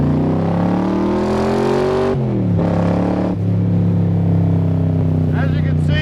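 A 1965 Shelby Cobra replica, a Superformance MKIII, pulls hard under partial throttle, its engine note rising loud and close, dropping at a gear change, then climbing again steadily.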